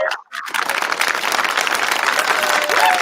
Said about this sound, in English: can I get a round of applause for our good friend TJ